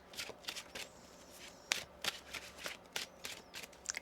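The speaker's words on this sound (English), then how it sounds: "Let's get one more shuffle here." Tarot cards being shuffled by hand in a quiet room, a string of crisp riffling bursts and soft slaps in an irregular rhythm, close and fairly faint with no speech.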